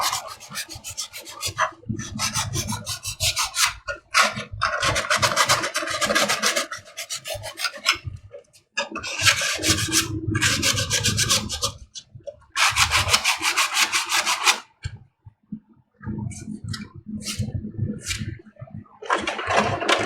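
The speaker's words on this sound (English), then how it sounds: "This has already been sanded, so I'm going to make sure we get all of it sanded." Sandpaper rasps firmly across the back of ShoreTrooper and DeathTrooper chest armor in bursts of rough rubbing strokes, loud and close, broken by short pauses.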